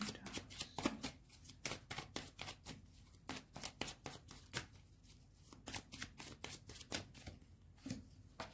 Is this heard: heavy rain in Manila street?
no